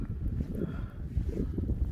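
Wind blowing through a blizzard in extreme cold around -32, a steady rough low rumble with gusty buffeting against the microphone, close and continuous with no talk.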